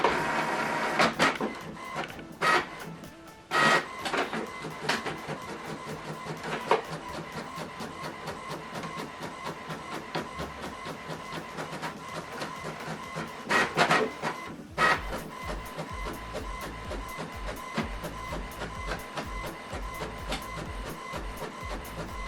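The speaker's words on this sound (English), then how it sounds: "Now this document is printing." An HP printer prints a colour document, its mechanism running with continuous rhythmic clicking and whirring, rollers feeding paper and a few louder clunks and shifts along the way, close by with no talking.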